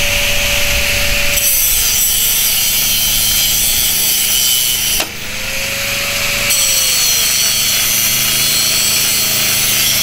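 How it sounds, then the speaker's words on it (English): Old bolts being cut off clamps salvaged from an old repeater antenna: a loud, steady, close rasping cut that runs continuously, with one brief break about halfway before it resumes. "Cutting all them old bolts off."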